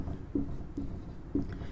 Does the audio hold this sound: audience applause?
no